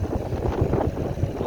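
Wind gusting across a creek, a steady low rumbling buffet that roars against the microphone throughout, loud and close with no voices.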